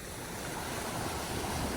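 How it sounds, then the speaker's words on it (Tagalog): Waves break and wash along a seashore in a steady, roaring rush mixed with wind noise on the microphone, continuous and fairly loud with no voices. "pinasilip ko na sa inyo ang tabing dagat today."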